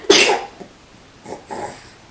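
One sharp, loud sneeze bursts out at close range, followed by two softer breathy sounds, in an otherwise quiet indoor setting.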